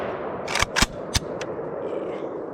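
Beryl 7.62 rifle fired on an outdoor range at dusk, about four sharp, loud shots in a quick, uneven burst, each followed by a brief ringing tail.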